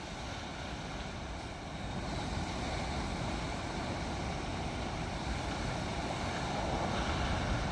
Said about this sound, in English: We've got some big waves out there.